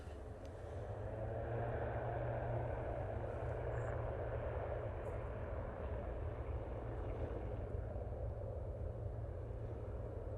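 An Aer Lingus airliner taking off from runway 05 left, a steady, distant jet engine roar that swells in the first couple of seconds and then holds as a broad rumble, with no talking.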